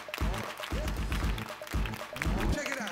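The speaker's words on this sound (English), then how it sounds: "Everybody clap your hands." Audience clapping in a school gym during a prom fashion show event, steady rhythmic hand claps under loud pounding dance music and an amplified voice.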